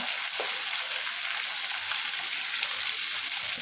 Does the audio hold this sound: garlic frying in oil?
yes